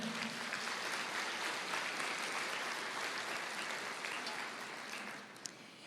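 A church congregation applauds during a sermon, producing a continuous, broad wash of many hands clapping at a moderate distance, even in level before easing off near the close.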